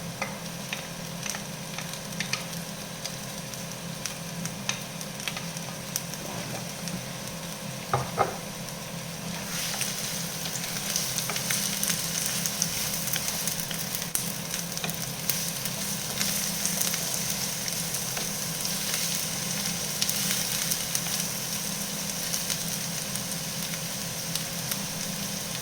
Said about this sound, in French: Je mets mes oignons. On va les cuire à peu près 5 minutes